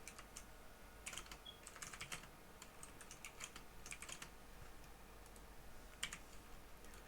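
Fast, uneven typing on a computer keyboard while writing Discord.js bot code, with crisp clustered key clicks in short bursts and pauses, fairly quiet and close, with no talking.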